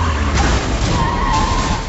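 A car skids in a film trailer, a loud, sustained tire screech sweeping across the whole moment over a rumbling low noise.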